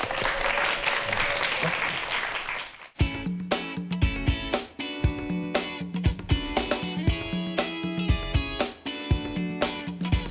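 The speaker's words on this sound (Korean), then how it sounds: "지금부터 여러분 박수를 한번 청해 들어보겠습니다" A studio audience at a youth startup showcase applauds for an entrepreneur with a knitting business. A few seconds of crowd clapping give way abruptly to loud, rhythmic music with punchy beats.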